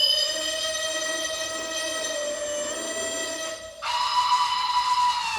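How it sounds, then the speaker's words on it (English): Model locomotive sound decoders sound two steam whistles at once, one for a Merchant Navy engine and one for a GWR Hall class in the engine shed, giving a sustained shrill tone that shifts and strengthens partway through. "the whistle actually worked on the Merchant Navy, but what you also heard was the Hall class GWR locomotive, which is in the engine shed, going off as well"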